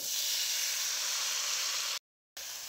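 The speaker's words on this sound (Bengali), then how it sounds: "এবারে আমি লাউটা কড়াইয়ের মধ্যে দিয়ে দিচ্ছি" Bottle gourd going into a hot kadai gives a loud, steady hiss of sizzling and steam. The sound cuts out briefly and then carries on.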